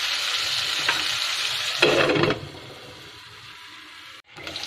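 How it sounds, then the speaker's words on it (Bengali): Hilsa fish frying in mustard oil: a steady broadband sizzle with stirring, a louder burst of spatter midway, then quieter frying and a brief dropout before the sizzle resumes. "আমরা যদি ইলিশ মাছ সরিষার তেল দিয়ে ভাজা করি"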